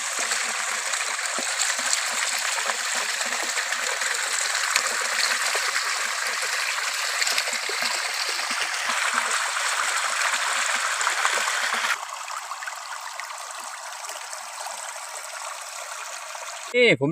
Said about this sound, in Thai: เราเจอน้ำตกครับทุกคน